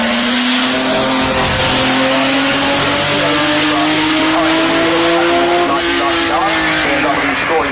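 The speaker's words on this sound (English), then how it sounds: "we have more BMWs coming up the hill" BMW race cars climb the hill at the 2018 Goodwood Festival of Speed, their engines loud and close as they rev and accelerate through rising gear changes, with a voice talking over the roar.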